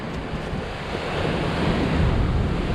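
Ocean surf at Laguna Beach, a steady rolling wash of waves building louder toward the end, with wind buffeting the microphone and no talk.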